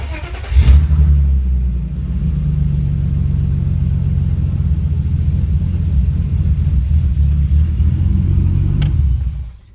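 A turbocharged Touring car engine idles steadily with a deep, loud rumble and a slight, uneven misfire throughout, close to the listener and with no talk over it.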